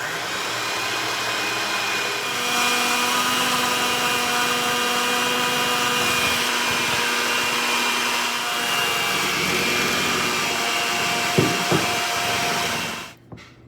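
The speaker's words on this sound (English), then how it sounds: "I'm gonna add a little bit of our dry mix, and I'm gonna blend this in." An electric mixer blends dry mix into banana bread batter with a steady, loud motor whir that holds for about twelve seconds before cutting off abruptly.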